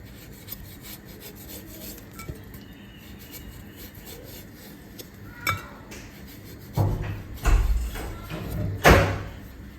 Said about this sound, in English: So we'll start by peeling our pawpaw or papaya.